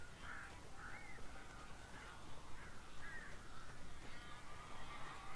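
Crows cawing in the horror video game Alan Wake, several hoarse caws repeating at moderate distance over a steady dark ambient background, with no voices.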